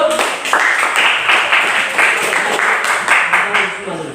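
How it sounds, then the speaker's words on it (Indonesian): Classroom students clapping together in an Indonesian lesson, a dense rhythmic patter of many hands in short regular bursts, fairly loud and close, with a few voices mixed in. "kalau begitu tepuk tangan untuk semua dulu"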